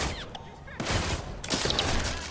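Watch Dogs 2 gunfire crackles as a rapid volley of shots in a few dense bursts, loud and close.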